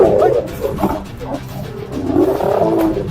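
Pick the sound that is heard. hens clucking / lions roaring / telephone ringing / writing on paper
lions roaring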